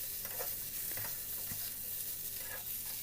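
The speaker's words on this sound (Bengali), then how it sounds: "আবার খুন্তি দিয়ে নেড়ে আরও একটু ভেজে নিচ্ছি" Potatoes and pumpkin frying in mustard oil give a steady close sizzle, with a spatula scraping and stirring them in a few short strokes. No one speaks.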